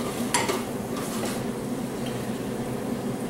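Sauteed asparagus with red onion is stirred in a pan, with a soft scraping of utensil on pan over a steady low sizzle and hum and one brighter clink near the start.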